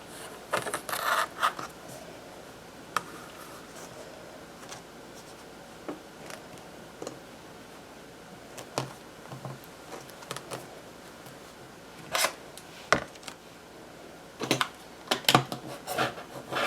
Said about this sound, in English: I'm going to go ahead and cut right down the crease